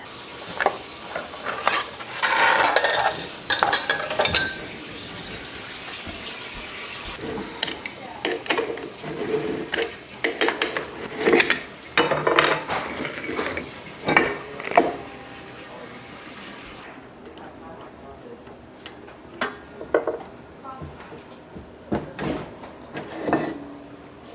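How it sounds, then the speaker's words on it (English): Tomato processing machine being cleaned after canning: close clattering of metal and plastic parts, scraping, running and splashing water, and knocks in bursts over about twenty seconds, easing off near the end. "get my tomato machine cleaned up"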